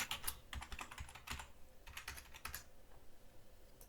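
Quiet, fast typing on a computer keyboard as a password is entered, a run of close key clicks with brief pauses and no talk.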